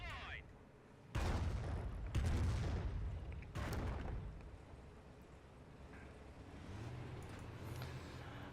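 Artillery barrage in Company of Heroes, several heavy booming impacts in quick succession that each trail off into rumble, followed by quieter distant bursts and low battle noise.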